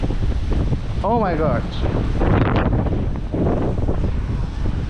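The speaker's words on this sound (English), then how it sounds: "You see how windy it is?" Strong, gusty wind buffets the microphone outdoors on a blustery day, a steady roar under nearby talking voices.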